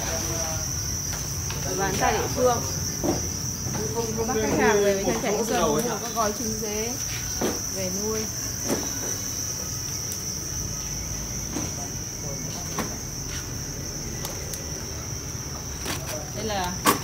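Crickets chirp steadily at a cricket farm in northern Vietnam, a high, continuous trill carrying under someone speaking briefly nearby, with light handling noises.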